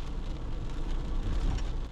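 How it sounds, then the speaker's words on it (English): Steady rain patters on and around a parked car in a Wisconsin lot, a soft continuous wash of noise with a low rumble beneath and no voices. "I really don't know how long it's supposed to rain."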